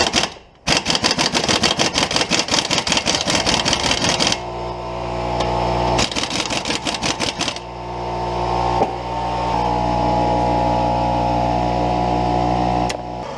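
Rapid metallic tapping on a 2007 Toyota Camry front strut assembly during replacement, a dense fast run of hits, then a pause and a second burst, followed by a steady hum with an occasional single knock.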